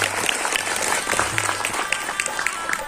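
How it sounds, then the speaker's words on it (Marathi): An audience at a Brahmin business-federation event gives a sustained round of hearty applause, a dense, even clatter of many hands through the whole short stretch with faint voices mixed in. "तेव्हा जाता जाता जोरदार टाळ्या होऊन जाऊ दे."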